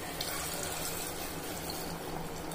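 Mutton cooking water pours into a pot for pressure cooker biryani, a faint, steady splashing stream lasting a couple of seconds.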